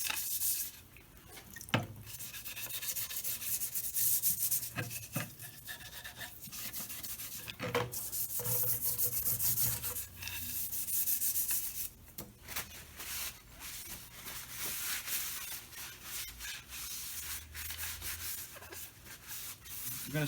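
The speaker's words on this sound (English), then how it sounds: "Now on the levers here, I'm going to do a little bit of scrubbing." Brush scrubbing dirty, greasy metal levers on an antique horse tricycle, a steady close, rough rasping rub with occasional knocks and drips, continuing for the whole stretch with little talk.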